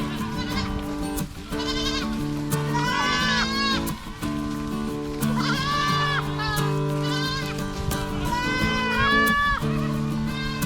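Goats clearing brush in a fenced area bleat repeatedly in overlapping, wavering calls, several animals close by and loud, with a steady low background hum.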